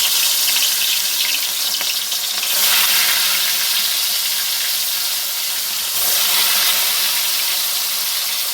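Fish frying in a pan gives a loud, steady, close sizzle that runs the whole time, swelling twice in brief surges, with no voices.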